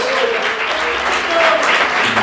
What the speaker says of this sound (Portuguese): Você pode aplaudir e exaltar o nome de Deus.